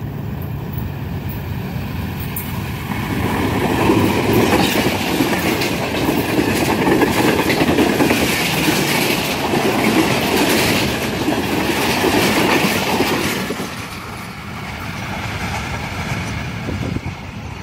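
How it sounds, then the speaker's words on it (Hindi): The Tezgam Express passes Kala Gujran railway station in Pakistan, a loud close roar of wheels with rhythmic clickety-clack over the rails that swells, holds for several seconds, then eases off. "डाउन तेजगाम एक्सप्रेस आ रही है"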